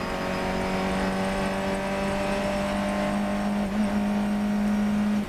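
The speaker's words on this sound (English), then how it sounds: "Fifth gear all the way down this straight into Tower, down to 3rd." A Fun Cup race car at Croft circuit holds fifth gear down a straight, its engine a loud, steady, close droning roar with a brief dip near the end.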